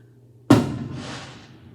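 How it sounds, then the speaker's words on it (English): Fireworks go off outdoors on New Year's Eve: a single sudden boom followed by a rumbling decay that fades over about a second. "They're setting off fireworks out here."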